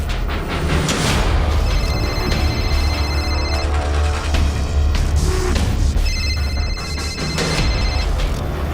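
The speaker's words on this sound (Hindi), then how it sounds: "फोन सर्विलेंस पे है, उठाइए।" A telephone rings in repeated electronic bursts over a loud, dense musical background, with two clear ringing passes a few seconds apart.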